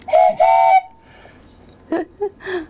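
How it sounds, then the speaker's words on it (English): A handcrafted toy whistle is blown in two clear, sustained tooting blasts, followed by a pause and a few shorter, softer whistle notes, loud and close. "We have a whole series of whistles you're going to see."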